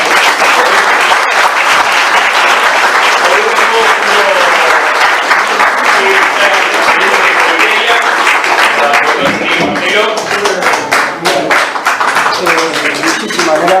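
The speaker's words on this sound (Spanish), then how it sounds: "les pido un aplauso para" Sustained audience applause at a conference on threats to national sovereignty, dense and loud clapping filling the room throughout, with a few voices rising near the end.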